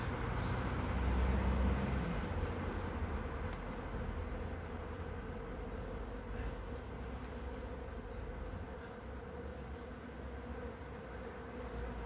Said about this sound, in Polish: Tak, pszczoły poruszone są.